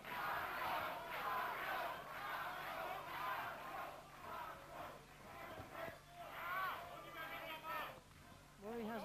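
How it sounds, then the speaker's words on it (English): A crowd at a boxing match, Markus Bott versus Michael Murray, roars and shouts in waves to get behind the local fighter, with a commentator talking over the noise. "Crowd getting behind the local man."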